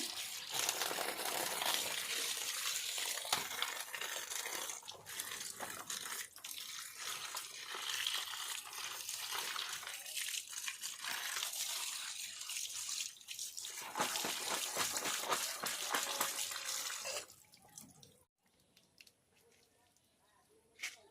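Vegetables for khichuri, carrots among them, being washed clean of sand in water, a continuous splashing and rinsing rush close by that cuts off near the end, leaving faint quiet.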